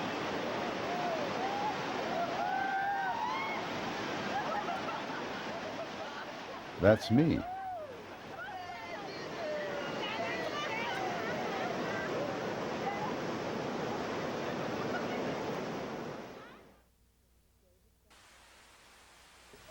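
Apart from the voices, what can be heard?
river water rushing during rafting trip in Bali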